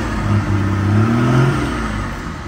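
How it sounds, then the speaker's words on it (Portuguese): A car with a blown exhaust accelerates away from a work yard, its loud, raspy engine note rising in pitch over a couple of seconds and then easing slightly. It sounds close and continuous. "Escapamento estourado, vai ter pressão."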